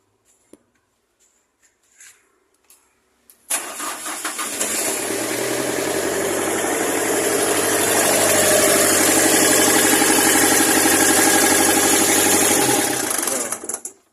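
A Miller 500X welder's engine, low on oil, is cranked after a few quiet clicks, catches and runs with a loud steady mechanical roar for about ten seconds, then dies out abruptly.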